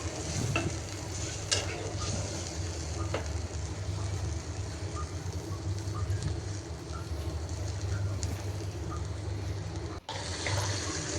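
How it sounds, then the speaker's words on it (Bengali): Fried chapila fish simmering in a pan of curry with potato and tomato after a little water is added, giving a steady, close bubbling sizzle with stirring scrapes throughout, briefly cut near the end. "তো ঝোলের জন্য তো অল্প করে পানি দিয়ে দিলাম।"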